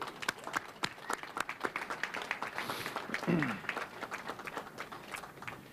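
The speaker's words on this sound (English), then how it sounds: "How about a round of applause for them?" Scattered applause for elite marathon runners at a Boston Marathon banner unveiling, with sharp distinct claps from a modest crowd, and a brief voice cutting in midway through.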